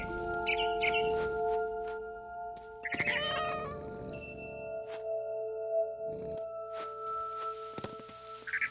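A cat meows a few short times in the video game What Remains of Edith Finch, with a brief burst of chirping near a barn swallow, over sustained tonal music drones.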